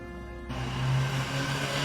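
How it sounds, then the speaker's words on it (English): Road traffic outside a room swells in, a steady loud car whoosh and engine drone rising over a quiet background and holding. "Damn the cars. Why is it loud"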